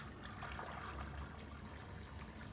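Toilet flushing in the video game Heavy Rain, a steady rushing, trickling wash of water that fills the whole stretch at moderate level with no pauses.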